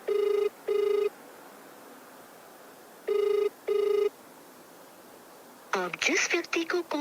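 Phone call ringing unanswered: two pairs of electronic ring tones in an earpiece with a quiet gap between them, then an automated voice message begins at the end.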